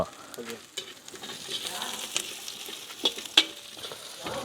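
Quiet crackling sizzle of garlic and cumin frying in a pan, broken by occasional clinks and scrapes of stirring.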